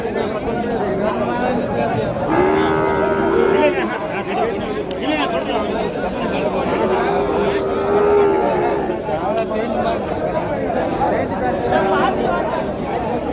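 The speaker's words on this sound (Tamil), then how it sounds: "கண்ணுக்குட்டி பாருங்க, சின்ன கண்ணுக்குட்டிங்க, ஜெர்சி கண்ணுக்குட்டி" Young Jersey calves moo repeatedly at a busy cattle market in Uthangarai, several drawn-out calls spaced a few seconds apart beneath constant crowd chatter and nearby talking.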